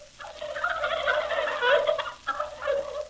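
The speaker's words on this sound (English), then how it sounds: "listen, here's a turkey." A turkey gobbler on a farm lets out a rapid, warbling gobble that rolls on for several seconds, fairly close and loud, with a brief pause before a final burst.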